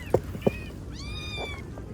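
A young kitten inside a box gives a high, wavering meow after two soft knocks, fairly close and alone, with no talking.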